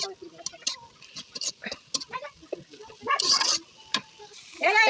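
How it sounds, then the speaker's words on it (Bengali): Chilies and salt stir-frying slowly in a pan, with light scraping stirs and faint sizzling heard in short bursts beneath a person talking close by. "এখন নেড়ে চেড়ে আস্তে আস্তে ভেজে নেব।"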